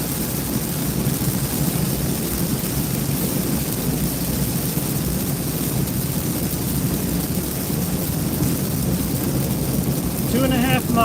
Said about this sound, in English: if you enjoy the sound of rain